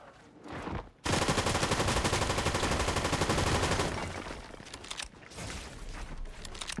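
Video game gunfire including sniper shots, a sudden loud burst of rapid automatic fire lasting a few seconds after a single sharp shot, then tapering into scattered fainter shots.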